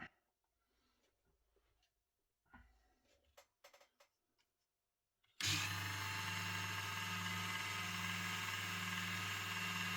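A 0.85mm carbide PCB drill bit bores into a ring held in a vise: a few faint handling clicks and taps, then a loud, steady high-pitched drill whir starts suddenly and runs to the end.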